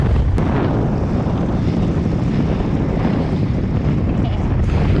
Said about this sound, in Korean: 오늘 물때는 조금인데 바람이 많이 불어가지고 배를 계속 밉니다